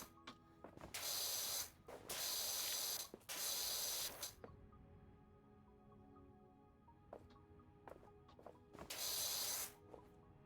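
A pressure washer in Power Wash Simulator sprays in loud hissing bursts of about a second each, four of them separated by quiet gaps with faint mechanical clicks, and no talking.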